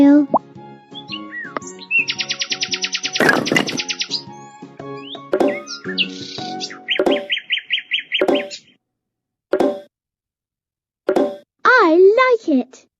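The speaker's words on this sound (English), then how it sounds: "Nightingale." Nightingale song in a series of varied bursts: rapid repeated trills, whistles and chirping phrases separated by short silences, loud and close with no talk.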